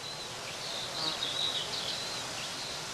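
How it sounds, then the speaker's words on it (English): Bees buzz around bramble blossom in a wood, a faint, steady hum holding throughout with a soft rise in the middle. "the bramble blossom attracts the bees in the wood"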